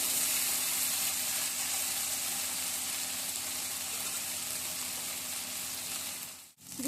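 Ground spice paste fries in a pan with a loud, continuous close-up sizzle that holds steady, then briefly cuts out just before the end.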